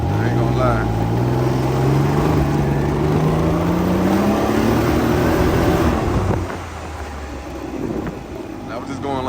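A 2024 Can-Am Ryker automatic three-wheel motorcycle riding at low speed, its engine droning and rising steadily in pitch under heavy wind rush, then easing off and settling; someone talks over it throughout.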